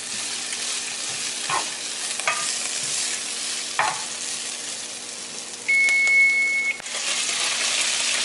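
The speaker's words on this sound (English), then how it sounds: "Go ahead and drop the kale right on the pan with the garlic." Kale dropped into a hot pan with garlic sizzles steadily and fairly loud throughout, with a few stirring scrapes and a short electronic beep near the end.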